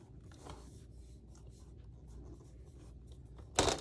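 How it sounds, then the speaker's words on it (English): Scissors snip through a cardstock strip for a handmade Santa Christmas card, a quiet steady rustle of paper handling ending in one sharp, louder cut near the close. "So I'm going to go ahead and cut this off at 2 inches."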